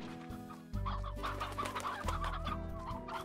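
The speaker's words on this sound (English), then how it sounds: "It's a rock hen." A rock hen in the video game Slime Rancher clucks loudly and repeatedly in quick, choppy bursts, close and alone with no talking.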